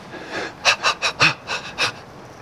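A voice imitates a chimpanzee play laugh: a run of about seven rhythmic, breathy panting bursts, close and fairly loud, with no talking.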